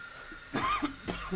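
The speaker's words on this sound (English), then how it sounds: "It's gonna be hard to live stream tonight with this cough." A person with a cold coughs harshly twice, close and loud, with a short, quieter throat sound after each burst.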